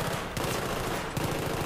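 Rapid automatic gunfire from the Battlefield 3 video game, dense and continuous bursts throughout, loud and close with no talk over it.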